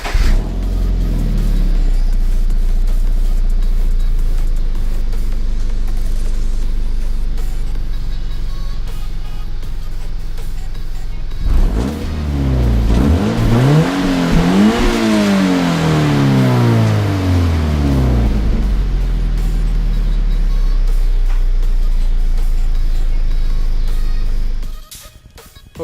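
Stock Toyota 86/Subaru BRZ engine cranking to life and idling with a loud steady rumble, then revved a couple of times with rising and falling pitch before settling back and shutting off.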